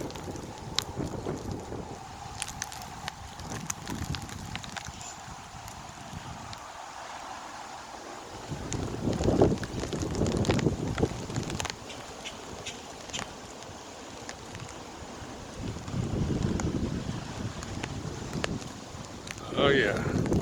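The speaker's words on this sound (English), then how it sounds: "snowstorm here in May." Gusty wind during a May snowstorm in Castle Shannon, Pennsylvania, roaring and buffeting the microphone in rising and falling surges, with people talking faintly underneath.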